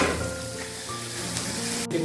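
Dried shrimp and dried chillies frying in hot oil in a home kitchen, a steady close crackling sizzle throughout with a short sharp clatter near the end.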